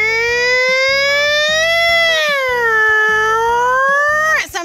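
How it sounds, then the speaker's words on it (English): A loud fire truck siren wails in a slow rising and falling tone, held for several seconds before cutting off abruptly. "here's where the siren is so people know that a fire truck is on the way"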